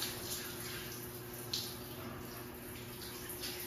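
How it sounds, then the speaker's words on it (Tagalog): Weak, low-pressure shower spray runs steadily in a home bathroom, a faint continuous hiss of water with no voices. "Parang hina naman ang shower natin."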